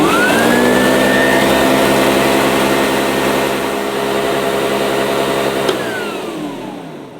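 A Hoover Junior U1104 vacuum cleaner runs with a loud, steady motor whine and airflow roar, its pitch dipping slightly before winding down as it switches off.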